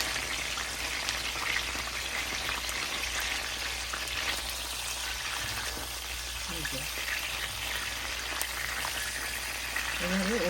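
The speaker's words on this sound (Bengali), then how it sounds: "লো হিটের থেকেও একটু বেশি আগুনটা দিয়ে আমি এটাকে ভাজবো" Pointed gourds stuffed with prawn mince fry in oil in a pan over medium-high heat, giving a continuous dense sizzle and crackle that runs steadily throughout, with a brief bit of faint background movement near the end.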